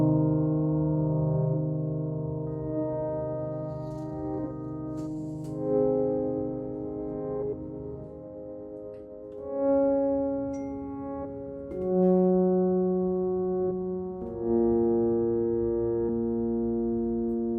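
Reversed piano sample from Studio Pianos by Cinematique Instruments: sustained tones swell and fade backward, moving through a slow series of chord changes with soft, rising attacks, alone and fairly close.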